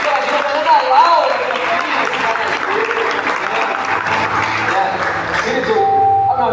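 A church congregation applauds together, dense and sustained clapping filling the room for several seconds, with voices mixed in underneath.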